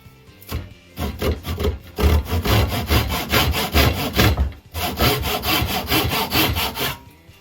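Steady back-and-forth strokes of a Japanese handsaw biting through wood, a rhythmic rasping that pauses briefly before resuming, close and clear.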